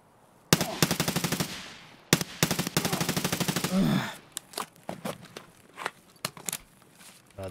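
A gun fires in Escape From Tarkov in two long, rapid automatic bursts, loud and close, followed by scattered single clicks and handling noises.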